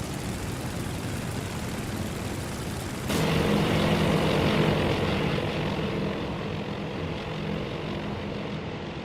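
An aircraft engine drones steadily as a plane lands on a carrier in the naval strategy game Task Force Admiral, the roar stepping up sharply partway through and then holding loud before easing slightly.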